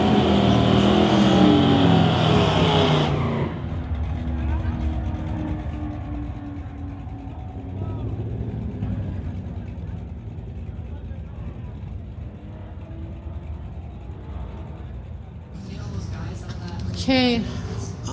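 A 2018 Audi drag racing at a MOPAC street legals event, with a loud engine rush fading into a distant rumble and then a surge near the end, under a commentator's talk.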